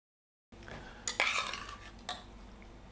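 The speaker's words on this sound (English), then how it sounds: "So, Ryan, you're going to dish up the curry." Serving spoon clinking against a pot and plates while chickpea curry is dished up, a few sharp metallic scrapes and taps over quiet room noise, no talking.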